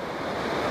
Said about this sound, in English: You see the rocky ocean shore, some rocky islands, tide is coming in.